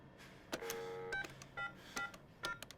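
A telephone number is dialed by keypad, giving a quick, uneven string of short touch-tone beeps over a quiet background with faint clicks between them.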